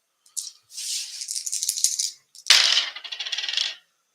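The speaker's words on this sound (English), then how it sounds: "So I'm going to do 4 dice." Four dice clatter in quick rolling rattles across a table during a tabletop card game, a short burst followed by a second, sharper roll that tumbles and settles.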